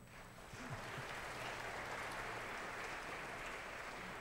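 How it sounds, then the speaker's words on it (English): Audience applause for choirs at a Christmas concert, a steady wash of clapping that swells after the first half second and holds fairly far off through the rest, with a faint low voice murmuring underneath. "you may applaud for them as well."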